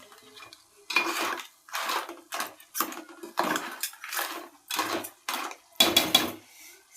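A spoon scrapes and clanks rhythmically against a pot while garam masala is stirred into a Telugu-style crab curry, peethala pulusu, with about nine distinct bursts of metallic scraping, close and alone.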